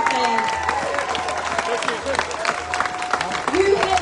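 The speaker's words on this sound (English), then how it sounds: "Give yourselves a massive round of applause" A crowd at a live protest concert on New Zealand's Parliament grounds claps and cheers in a steady, dense wash of applause, with an amplified voice talking over it.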